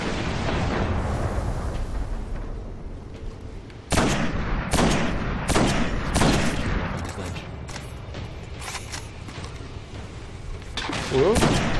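Sniper and other weapon fire in the video game Destiny, a burst of sharp booming shots and bangs in irregular succession over a rumbling battle background, loud and up close.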